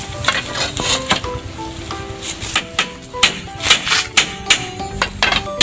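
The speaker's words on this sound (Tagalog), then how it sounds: "Pinapako na lang po." Sharp repeated taps of a hammer on nails ring out in an irregular rhythm, close by, with faint scraping between strikes.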